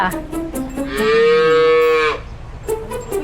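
A cow moos once while being bottle-fed milk at a farm cafe. It is a loud, close, drawn-out call of about a second, with brief chatter and handling noise before and after.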